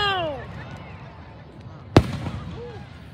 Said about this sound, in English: They never run out of fireworks.